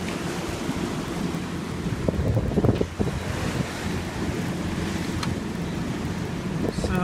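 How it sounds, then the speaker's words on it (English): Steep, choppy ocean waves slap around a boat motoring into Sabine Pass, giving a constant rushing wash of water and wind buffeting that stays loud and close throughout, with bumps of spray partway through. "It's a little sloppy coming into Sabine Pass. Really steep, stinky waves."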